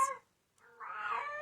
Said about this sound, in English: That's my cat screaming in the background.